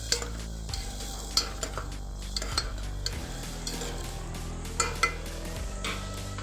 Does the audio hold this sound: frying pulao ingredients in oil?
yes